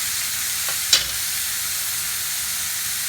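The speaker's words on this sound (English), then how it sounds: "Let the onions caramelize in this on slow heat." Onions caramelize over slow heat in a dry pan with no oil, giving a steady close sizzle and hiss with a brief stir partway through; no one speaks.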